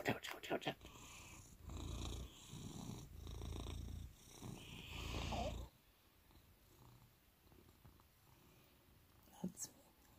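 A cat lying on a person's lap purrs with a soft, low rumble, very close and faint, while someone talks quietly over the first half before it fades to near stillness.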